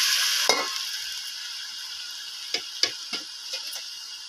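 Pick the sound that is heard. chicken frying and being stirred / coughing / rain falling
chicken frying and being stirred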